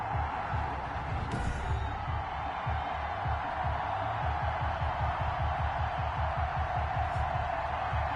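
A stadium crowd murmurs and roars steadily in an American football video game before a matchup between Chicago and the home team, forming a continuous loud wash of noise.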